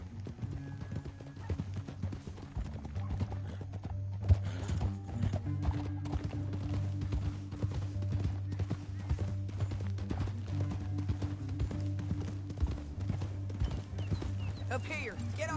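Horse hooves clip-clopping in the Western video game Red Dead Redemption 2, a continuous rhythmic beat of several riders under a low droning score, with an occasional snort or whinny.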